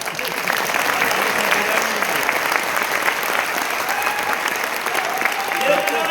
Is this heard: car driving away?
no